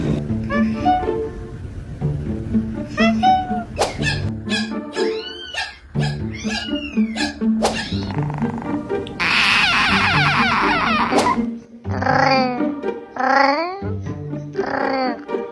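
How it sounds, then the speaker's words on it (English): Several cats give odd, strange vocalisations: repeated yowls, squeaks and chirping cries in quick bursts, one harsh hissing spit in the middle, close and loud, with a person talking between some calls. "These cats make strange sounds."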